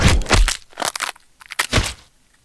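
Gore sound effect for an anime fight scene: several loud, close, wet crunching cracks in quick bursts, separated by brief gaps and fading out at the end.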